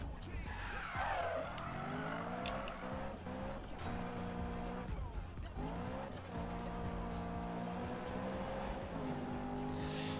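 A race car in Need for Speed 2016 revs hard and drifts, its engine pitch climbing and dropping while tires squeal through long skids, loud and continuous, with someone talking briefly under the game sound.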